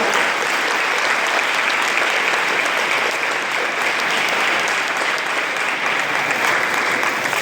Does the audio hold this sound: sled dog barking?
no